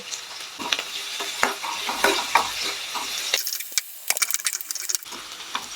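Onion and garlic sizzle in hot oil while a utensil stirs and scrapes the pan in irregular clinks and taps.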